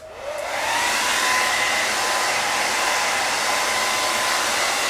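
A heat gun starts up and blows steadily, a loud, continuous airy roar with no voices.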